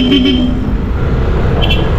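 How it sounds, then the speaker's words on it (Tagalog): A short, loud Bosch car horn toot at the start, followed by heavy low rumble of road traffic and passing vehicles. "Busina ng sasakyan talaga yan, kaya ano, malakas."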